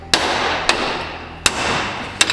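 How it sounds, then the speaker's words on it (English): Four sharp metallic hammer strikes on car wheel hub studs, spaced irregularly over a couple of seconds, close and loud with quick ringing decay and no talk. "Wayne said just give it one slap of the hammer"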